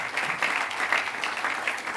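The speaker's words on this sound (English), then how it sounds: "Let's give him a round of applause." A crowd at an outdoor train station dedication ceremony applauds a former state senator with brisk, dense clapping for a couple of seconds.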